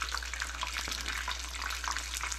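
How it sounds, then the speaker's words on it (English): Tap water rinses cut eggplant in a kitchen sink, a continuous hissing splash with small spattering variations throughout and no voices. "when I clean them, I'm going to rinse them under the water"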